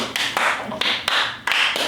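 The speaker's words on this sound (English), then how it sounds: "Ceremonial clap" A small group gives a ceremonial clap, a loose, close patter of hands with a few sharper accents, ending in under two seconds.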